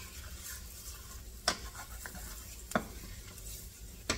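Garlic sizzles softly in a pan while a utensil stirs it, with three sharp scrape-clicks spaced about a second apart over the steady quiet frying and no voices.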